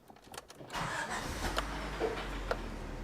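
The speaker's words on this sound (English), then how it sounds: "Let's start this car up" A Honda Prelude with a surging idle fault cranks briefly and fires up, the starter whir giving way to a low, steady engine rumble that settles in close and moderately quiet.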